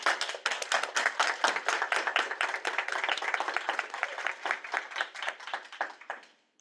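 A small group at a student senate session gives a round of applause, a few people clapping with distinct, individual hand claps that stay fairly steady, then taper off and stop after several seconds.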